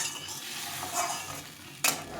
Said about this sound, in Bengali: এখন এই জল ফুটিয়ে রেখেছিলাম, এই জলটা দিয়ে দেবো।